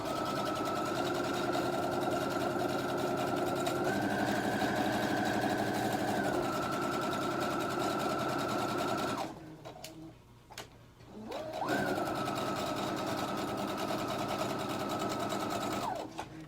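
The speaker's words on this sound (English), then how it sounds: "I'm just going to sew it all the way around" A sewing machine stitches fabric all the way around a hair scrunchie, a loud, steady, close whirring run that stops for about two seconds midway before starting up again, with no talking.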